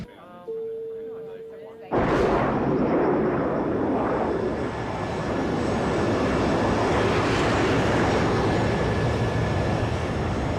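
An airliner at cruise produces a loud, steady roar that begins abruptly after a brief quiet tone and then holds constant, with some talking at the start.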